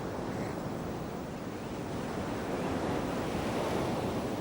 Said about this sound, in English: The surf of the Coromandel coast is dangerous.